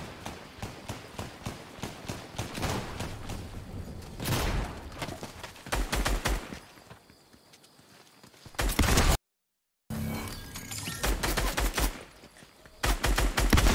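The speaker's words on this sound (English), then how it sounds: "I'm hearing people shooting" Gunfire from players in a Fortnite match: rapid bursts of repeated shots, fairly loud and close, with short pauses and a brief silent gap, then more volleys.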